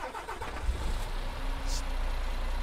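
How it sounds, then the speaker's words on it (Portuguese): A MAN TGX E6 truck in Euro Truck Simulator 2 cranks over and catches, settling into a loud, deep diesel idle that rumbles steadily up close with no one talking. "Só este arrancar do motor é muito bom."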